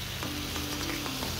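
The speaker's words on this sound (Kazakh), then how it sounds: "картошка мен пиязымызды қуырамыз." Potatoes and onions frying in hot oil in a pan, a dense continuous sizzle with a few light stirring scrapes, close and steady throughout.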